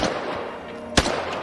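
One sharp, loud gunshot sound effect cracks out during an Independence Day street play, standing out briefly over steady background noise.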